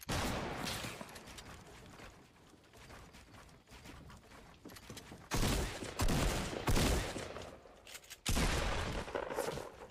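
Gunfire in the video game Fortnite crackles in rapid bursts, easing to a lighter rattle before two loud, dense volleys break out near the end.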